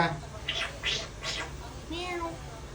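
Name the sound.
child imitating a cat meow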